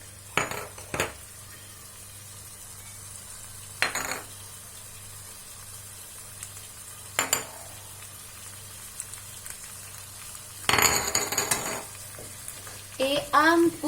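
Spices are stirred into a chickpea curry frying in a pan, with a soft, steady sizzle broken by sporadic sharp clinks and scrapes of a utensil against the pot.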